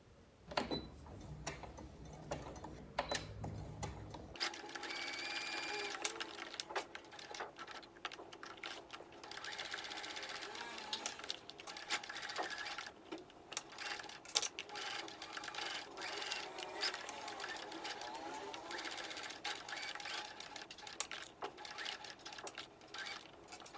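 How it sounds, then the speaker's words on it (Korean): A sewing machine stitches a fabric cup holder, making rapid mechanical clatter in quick bursts and steady runs, close and fairly quiet, with a short lower-pitched whir at the start before the stitching. "이제 패턴을 따라 재봉해 줄 건데요."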